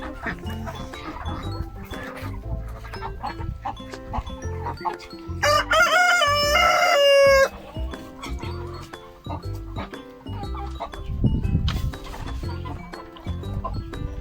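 Several Brahma chickens, three hens and three roosters, cluck and murmur nearby, and a rooster lets out one loud, drawn-out crow partway through.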